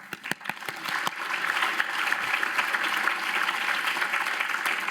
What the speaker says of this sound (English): And now I will continue to ask you to clap your hand